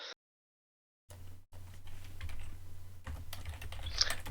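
Typing on a computer keyboard after a short silence, a steady patter of soft clicking keystrokes close by, growing slightly busier toward the end.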